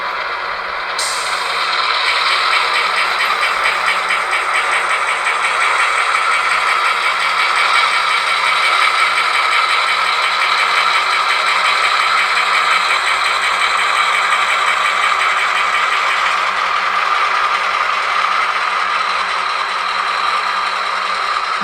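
Model SD7R diesel locomotive with a LokSound sound decoder, Southern Pacific HO scale, plays a brief air-brake release hiss, then a loud, steady diesel engine drone that holds at one level without pause.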